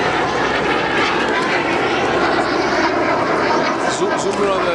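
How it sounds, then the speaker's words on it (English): A loud airplane engine roars overhead at an airshow in a continuous, rumbling drone, with people talking faintly beneath it. "all the airplanes that we're seeing today"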